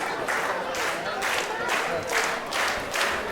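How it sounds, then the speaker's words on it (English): Excited crowd at an Elevation Wrestling show, a steady roar of clapping and cheering with rhythmic swells like chanting, loud and close throughout. "Crowd already excited, you can feel the buzz, you can feel the atmosphere."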